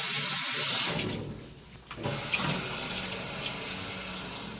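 A sink faucet gushes loudly at first, then the flow is interrupted as hands move through it for rinsing, leaving a softer, uneven splash and trickle, close by with no talk.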